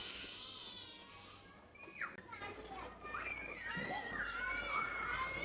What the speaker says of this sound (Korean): 애들 소리가 시끄럽다 놀이터 애들 바글바글하네